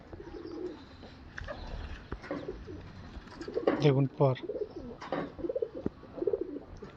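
Madrasi competition pigeons coo close by in low, throaty bursts, interleaved with someone talking.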